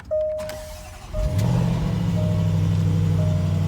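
A Range Rover engine starting at the push of the start-stop button: a short chime, then the starter cranks and the engine catches and settles into a steady, close idle hum.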